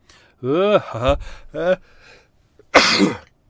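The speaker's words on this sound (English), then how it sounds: "Second sneeze." A few strained, drawn-out vocal sounds, then one sharp, forceful sneeze close to the listener.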